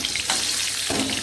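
Pieces of pointed gourd (potol) fry in hot oil with a close, continuous hissing sizzle that holds steady for a moment. No voices.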